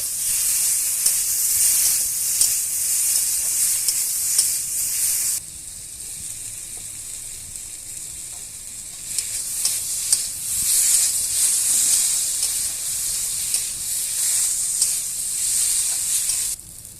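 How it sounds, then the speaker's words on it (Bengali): Vegetables stir-fried in oil with white mustard paste, a loud, continuous hissing sizzle with faint stirring clicks, dropping quieter for a few seconds before surging back up. "সর্ষে দিয়ে ভালোভাবে আমি কষিয়ে নিচ্ছি"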